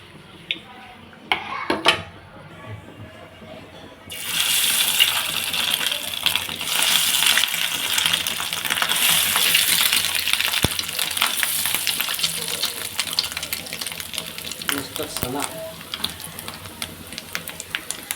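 Fish roe (sona) frying in a little oil in a pan: a few quiet seconds with light utensil clinks, then a loud sizzle bursts in and crackles steadily and close up to the end.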